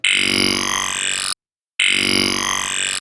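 Two identical bursts of a metallic, buzzy ring-modulated sample patch on a Virus synthesizer, with clanging inharmonic overtones, each about a second long, separated by a short silence.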